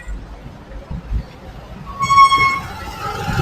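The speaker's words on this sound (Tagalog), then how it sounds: "Sakay na kami ng LRT dito sa UN Avenue Station." A Manila LRT light rail train at UN Avenue Station rumbles low, then a clear horn or chime tone sounds over the rolling noise, with faint crowd murmur.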